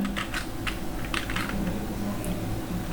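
Close keys clatter on a computer keyboard as code is entered, quick irregular bursts of clicks over a low steady room hum, with no one talking.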